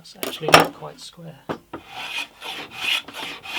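Hand plane shaping the wooden headstock of a handmade acoustic guitar, giving several close, rasping strokes that are separated by short pauses, with someone speaking briefly over the first strokes.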